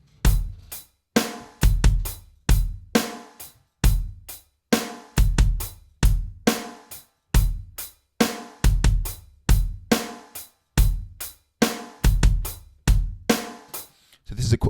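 A drum kit plays a steady repeating groove with the bass drum on beat one, punchy bass drum hits locking in with snare and cymbal strokes, close and loud with no voices.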